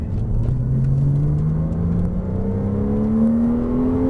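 A Porsche Cayman S (300 hp) engine revs steadily upward in pitch as it accelerates, loud and continuous with a low rumble underneath.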